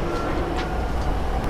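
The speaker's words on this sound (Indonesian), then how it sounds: "sekarang knalpot bunyi kereta" A modified motorcycle exhaust tuned to sound like a train gives a loud, steady rumbling drone with faint rhythmic pulses over a short stretch, and no talk is heard.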